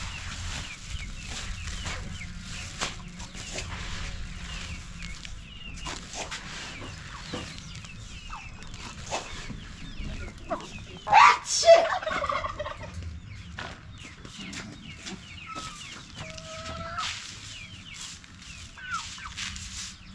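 A flock of chickens on an African village farm clucks and chatters at feeding time, many short calls overlapping at moderate distance, with a louder squawk midway.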